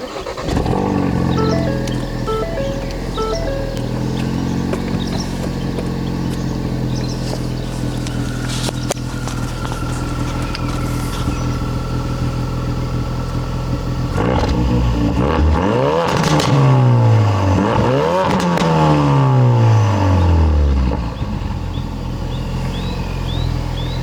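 A Ford Focus engine starts and runs loud and steady nearby, then revs up repeatedly in rising and falling sweeps, with no one talking.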